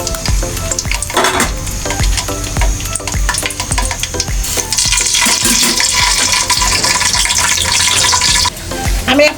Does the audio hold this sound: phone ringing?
no